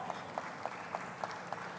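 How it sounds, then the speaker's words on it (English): Applause at a fintech conference panel introduction comes through as faint, evenly spaced claps that keep a steady rhythm for under two seconds. "A round of applause."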